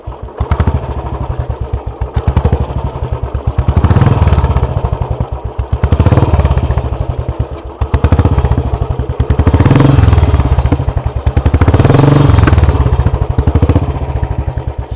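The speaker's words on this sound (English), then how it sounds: "Oh, this sounds like that dhak dhak typical of the Royal Enfield." Royal Enfield Classic 350 single-cylinder motorcycle fitted with a custom fabricated silencer, idling and revving with a steady, loud low thumping beat that swells in repeated throttle blips, fairly soft in tone.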